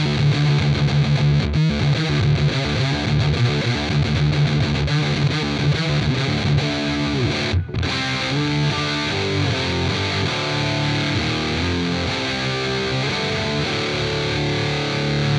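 An electric guitar with a humbucker plays through a Danelectro Cool Cat fuzz pedal with fuzz and tone maxed, giving a thick, saturated buzzing tone that runs almost unbroken, with one brief cut near the middle.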